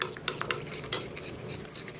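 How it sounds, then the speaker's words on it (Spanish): Clinking and scraping of a utensil against a bowl as gelatin is stirred into warm water, with small irregular taps over a soft background hiss. "Y lo vamos a mezclar perfectamente hasta que quede diluida por completo."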